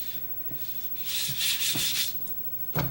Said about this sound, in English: ran this through the drum sander a few times to level it